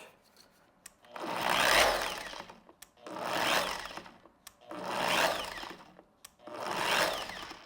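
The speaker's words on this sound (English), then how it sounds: "Let me show you the motion of this pad on an entry-level polisher" An entry-level Platinum orbital polisher from Walmart runs in four separate bursts, each ramping up to a buzzing whir and then cutting off, with short quiet gaps in between.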